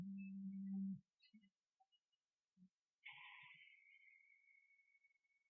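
A mobile phone rings with a clear electronic chirping tone that begins after brief scattered noises and a short low hum, then sustains and slowly fades, loud and close.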